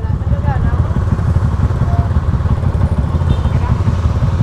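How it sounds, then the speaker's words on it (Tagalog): A Yamaha NMAX 240cc motor scooter engine runs close by with a low, steady throbbing rumble, while people talk over it. "Ito na yung NMAX 240cc."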